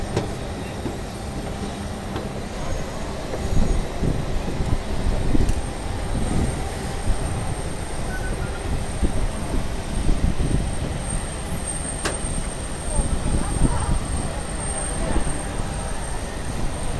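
Steady engine roar and broadband rumble of a TransNusa COMAC ARJ21-700 airliner, loud and continuous throughout, heard from inside with a faint high whine on top.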